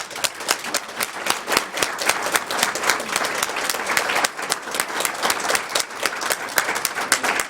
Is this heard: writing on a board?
no